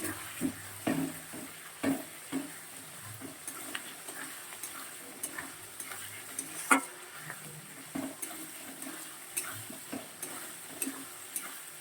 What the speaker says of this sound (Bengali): এবার মশলাটা খুব ভালো করে কষিয়ে নেব।